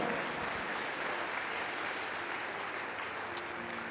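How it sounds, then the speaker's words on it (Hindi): A church congregation claps together during a Hindi sermon, a continuous wash of applause from many hands, fairly loud and sustained, with one sharper clap standing out near the end. "तारीफ करो ताली बजाकर मेरे यहोवा की"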